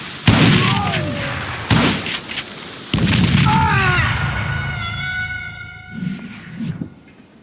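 Dynamite blasts in a video game hit as several heavy booms, followed by a whistling, horn-like tone that holds and fades.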